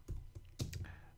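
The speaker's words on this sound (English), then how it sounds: "So go and type Mary and George." A few quick clicks of typing on a computer keyboard, faint and close, in a short irregular burst with no talk.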